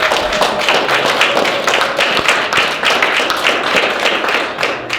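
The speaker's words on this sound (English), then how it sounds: "round of applause to all of you" Graduation audience at a prison clinical pastoral education ceremony gives loud, close applause, many hands clapping in a continuous rapid patter with sharp individual claps standing out.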